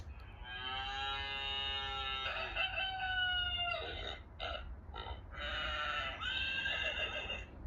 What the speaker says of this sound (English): That's the cow, the rooster, the pig, the lamb, and the horse.